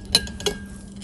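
Glass jar handled while making herbal tea, two light clinks about a third of a second apart, close and fairly crisp against a quiet background.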